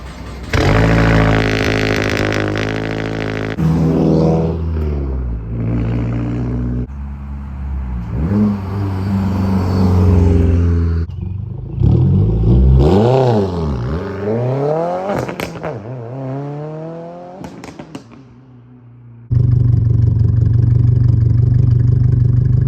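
A 2022 Subaru WRX's ETS turbo-back exhaust roars through repeated loud revs, the engine pitch climbing and falling several times, then settles into a deep, steady idle.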